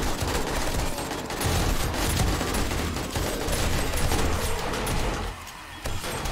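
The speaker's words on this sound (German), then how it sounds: "die Gewehre hier hinten schießen frei auf" Dense, sustained bursts of rapid gunfire from 7 Days to Die during a blood moon night, loud and continuous with brief dips, a heavy battle soundscape throughout.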